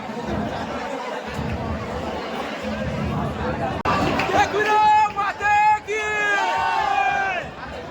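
Large crowd at an Ekvira Aai palanquin festival procession of the Agri Koli community: dense hubbub of many voices, rising into loud cheering and shouted cries in the second half.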